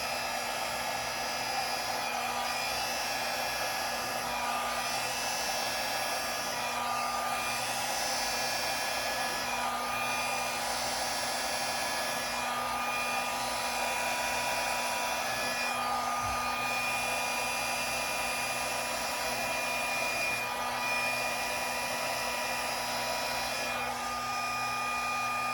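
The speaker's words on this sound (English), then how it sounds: "Hair dryer, cool air." A hair dryer runs on its cool setting, a continuous steady whirring blow with a faint motor whine, close and unbroken, used while making spin-style fluid art.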